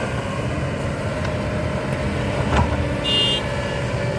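Kobelco SK200-SM excavator engine droning steadily as it digs and fills its bucket while widening a pond, with a steady low rumble, a brief clank near the middle and a short whine toward the end.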